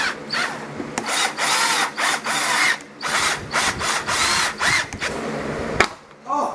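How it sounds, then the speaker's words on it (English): A power drill whirs in repeated bursts, starting and stopping as it bores holes to install AutoZone lights, loud and close with brief pauses between runs. "let's drill through this"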